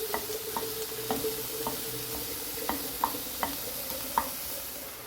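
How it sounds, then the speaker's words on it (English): Onions sautéing in a pan for chicken tikka masala give a steady low sizzle, with a spoon scraping and knocking against the pan in a loose rhythm of about a dozen taps. "you want to saute the onions right here"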